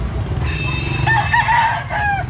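A big yellow-legged bullstag gamecock crows once nearby, its drawn-out rising and falling call sounding over a low background rumble, with no talking.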